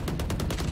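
Rapid gunshots from the video game Valorant, about six evenly spaced sharp cracks in under a second, firing in a steady automatic rhythm at moderate loudness with no talk over them.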